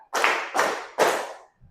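Three sharp, evenly spaced hand claps ring out close and loud in a counted classroom clapping exercise, followed by a short pause and a faint trailing sound.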